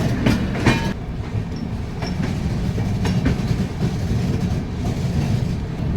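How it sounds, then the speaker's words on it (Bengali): The Tamralipta Express runs just after leaving Howrah station, with a steady rumble and clickety-clack of wheels from inside the carriage and a few rattling clunks early on. "হাওড়া স্টেশন থেকে ট্রেন ছেড়ে দিয়েছে"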